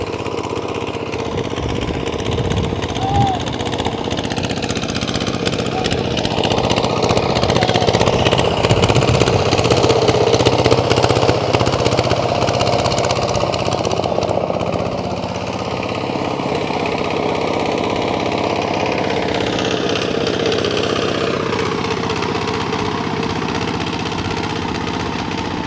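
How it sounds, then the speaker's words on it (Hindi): A tractor engine chugs steadily beside a rice field in a Bhutanese village where paddy is being planted, a loud continuous mid-pitched drone that shifts in pitch as it works, with no talk. "ये भाई चला रहे हैं ट्रैक्टर"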